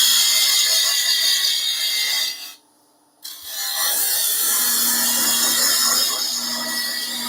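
A gouge cuts into a spinning wooden bird-shaped box on a lathe, giving a steady loud hiss and rasp that drops out briefly near the middle, then resumes with a faint motor hum underneath.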